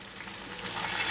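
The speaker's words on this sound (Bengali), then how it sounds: "এবার আমার মাছ মুলোটা ভাজা হয়ে গেছে" Katla fish head pieces and radish fry in hot oil in a pan, giving a steady, close crackling sizzle that swells slightly toward the end, with no voices.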